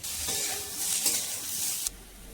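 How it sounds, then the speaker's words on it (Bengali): Ginger and partly fried potatoes sizzling in a pan as they are stirred, a close, bright frying hiss with scraping that stops abruptly near the end. "আদাটা একটু নাড়াচাড়া করে নিই।"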